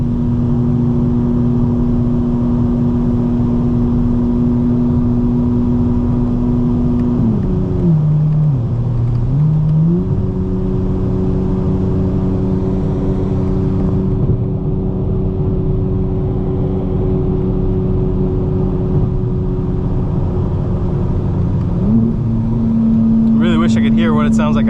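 A modded 2025 BMW M4 CS drones steadily from inside the cabin, its engine tone dipping briefly near the middle and again near the end before climbing back, with someone talking over it throughout.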